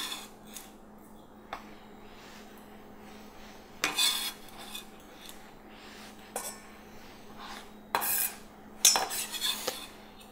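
Minced onion scraped and dropped into a bowl in a home kitchen, heard as a few soft scrapes and light clinks spread across a quiet, low background hum, with brief louder bursts near the end.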